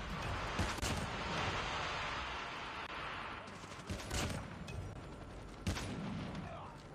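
Sniper rifle shots from the Arctic 50 in Call of Duty Mobile, several sharp cracks spaced a couple of seconds apart over a busy layer of background game noise and rumble.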